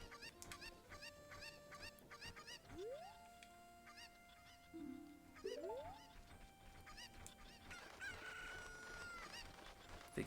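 Chicken and rooster sounds from the video game Ocarina of Time: repeated clucks and a crowing call over game music, with rising tonal effects mixed in and no talking.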